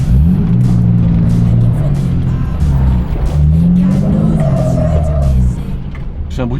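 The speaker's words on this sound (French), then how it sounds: "J'ai un bruit de pneu sur la terre." A Dodge Ram diesel truck drives on dirt, its tires rumbling and scrubbing loudly and steadily with engine noise throughout, easing slightly near the end.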